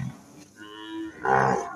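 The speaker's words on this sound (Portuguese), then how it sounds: "As vacas tá gordas, hein?" Cattle on a farm in Nova Mamoré, Rondônia, lowing close by: a short moo at the start, a sustained tonal moo through the middle, and a louder, fuller bellow near the end, with no talk.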